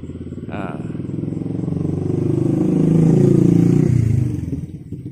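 A Honda Vario New motorcycle rides past nearby, its engine hum rising to a peak and then fading over a few seconds on a street, fairly loud and close.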